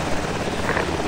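A helicopter in the military video game ArmA 2 roars close and loud with a steady, dense rotor and engine wash that fills the whole moment.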